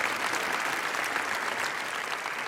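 An audience at a French comedy show applauds in a dense, even wash of clapping that holds at steady volume from start to finish.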